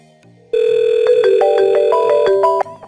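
Synthetic telephone tone from a VoIP call placed through an Elastix server, a loud steady electronic beeping with stepped pitch changes lasting about two seconds, alone with no talk.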